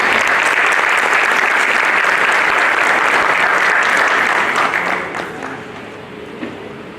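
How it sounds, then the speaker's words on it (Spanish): Loud, close audience applause at a family congress welcomes panelist Orfa Luna, holding strong for about five seconds before tapering off to scattered claps. "Bienvenida, recibámosla con un aplauso."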